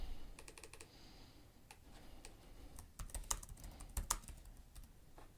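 Fingers typing on a computer keyboard to rename a project, irregular bursts of close clicky keystrokes with short pauses and a few sharper taps near the end.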